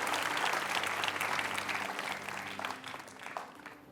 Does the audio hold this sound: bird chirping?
no